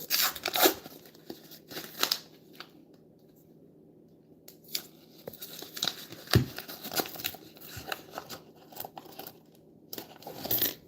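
Paper coin roll wrappers being cut and torn open with a knife, scattered crinkling, ripping and scraping bursts with coins clinking and one sharp thud, close and fairly quiet.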